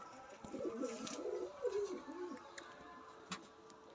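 Pigeons cooing in a loft of a breeder's collection, soft rolling coos at moderate distance, with a faint murmur of talk and a few light clicks around them.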